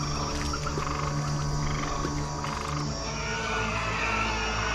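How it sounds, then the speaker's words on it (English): A dense chorus of frogs croaks loudly and continuously, many overlapping throaty calls with a steady low drone underneath. "The stinking blood waters suddenly produced millions of frogs."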